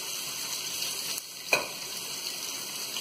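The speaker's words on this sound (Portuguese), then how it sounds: "Aqui tem calabresa e bacon. Vou pôr aqui primeiro para ela fritar bem," Calabresa sausage and bacon fry in a pan with a steady, faint hiss of sizzling fat, broken by one brief clink near the middle.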